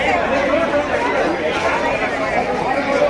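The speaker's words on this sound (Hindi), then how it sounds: "मतलब ये भीड़ कितना है? बहुत ही भीड़ है।" Dense crowd chatter fills the Dwarkadhish temple complex, a steady, loud babble of many overlapping voices with no pauses throughout.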